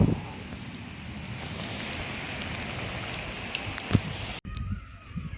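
Heavy rain pouring steadily over a village, a dense continuous hiss with wind, a few sharp knocks near the end and a sudden drop as the sound cuts off.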